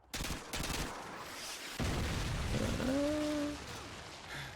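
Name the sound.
gunshots in a shooter video game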